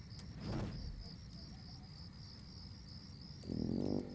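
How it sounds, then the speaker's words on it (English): Crickets chirp steadily in a quiet night setting, a thin continuous high trill running throughout, with a brief low rumble near the start and a short murmur toward the end. "all you could hear were the crickets"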